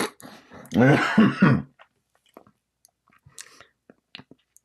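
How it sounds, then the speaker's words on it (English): A close, throaty cough or throat clear near the start, followed by quiet small clicks and mouth noises. "so that I can not cough like that on screen"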